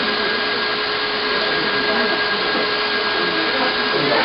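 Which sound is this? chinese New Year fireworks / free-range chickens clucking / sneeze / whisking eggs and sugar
whisking eggs and sugar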